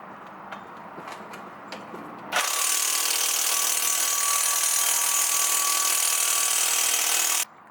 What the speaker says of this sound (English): So I tried to break it loose with the impact by spinning it as much as possible